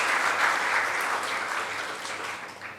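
An audience claps steadily for about three seconds, a dense, even wash of applause in a hall that fades slightly toward the end, with no voices over it.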